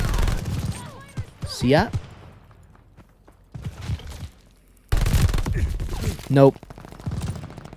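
Gunfire in a Call of Duty game comes as short bursts of shots separated by gaps, with a player talking briefly between them.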